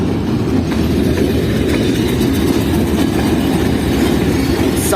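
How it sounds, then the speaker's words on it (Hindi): Jaffar Express rake, the Quetta–Peshawar train, being shunted toward a station platform: a steady, loud low rumble of rolling railcars with faint clicking wheels throughout, no voices. "ये कोयटा और पेशावर के दरमियान चलने वाली 39 अब जाफर एक्सप्रेस का रेक आ रहा है, जो कि बेसिकली शंट हो रहा है"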